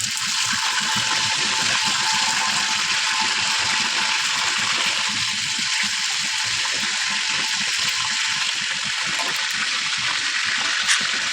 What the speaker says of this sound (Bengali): এখন আমি লবণ মাখানো সবগুলি চিকেনই একে একে ভেজে নিচ্ছি।